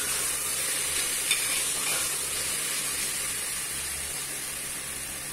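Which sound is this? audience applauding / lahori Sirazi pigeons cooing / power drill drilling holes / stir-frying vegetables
stir-frying vegetables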